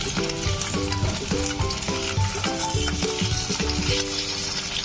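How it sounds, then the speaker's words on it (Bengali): Fish frying in a pan after being turned over, a loud, continuous crackling sizzle close to the microphone, with a faint tonal layer in the background that sounds like music. "তাহলে সুন্দরভাবে লাল লাল করে ভাজা হয়ে যাবে মাছটা।"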